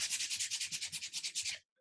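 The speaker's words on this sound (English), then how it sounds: "you can scrape the wax off with the palette knife, or you can use the sanding disc" Rhythmic, close scratchy rubbing of a sanding disc over a surface, about fifteen quick strokes in a steady back-and-forth pattern before stopping.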